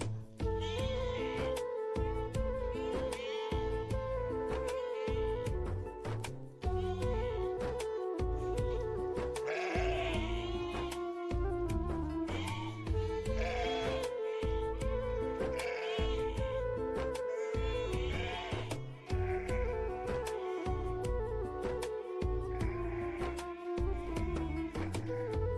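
Narisuvarna sheep and their lambs bleat over and over while the lambs suckle on a sheep farm, a busy overlapping chorus of calls at moderate distance that goes on throughout.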